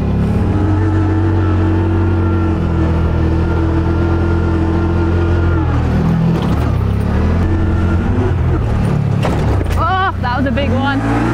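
A car engine roars loudly and steadily, then surges as the driver accidentally accelerates on landing after a jump during a rough off-road run that nearly rolled it; a person talks over the engine noise.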